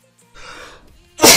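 A single loud, sharp sneeze bursts out at the end after a stretch of soft background noise, close to the microphone and alone, with no talk over it.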